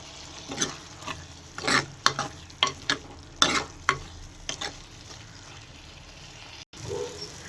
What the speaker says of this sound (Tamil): துருவி வச்சுருக்க தேங்காய் சேர்த்து கொஞ்சம் நல்லா கிளறி விட்டுக்குவோம்